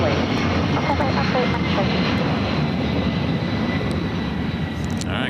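American airliner taking off from runway 25 right at LAX, a loud steady engine roar holding throughout, with voices talking over it.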